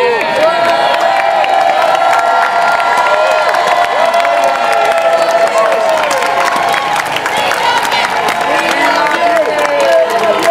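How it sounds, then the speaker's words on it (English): A loud crowd at an Extinction Rebellion protest in London cheers and whoops without pause, with scattered clapping mixed into the continuous, noisy roar. "We have a big round of applause for Jenny!"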